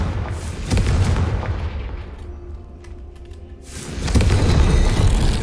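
The Confringo spell explodes against a gate in the video game Hogwarts Legacy: a deep booming blast with a rumbling tail, then a second heavy burst close by, with no talk over it.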